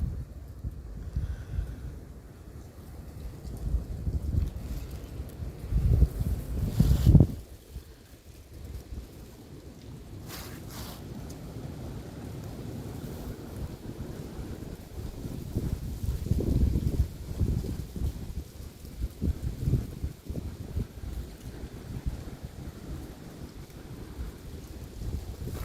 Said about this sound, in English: Hard to hear something move, you know, when it gets windy like that.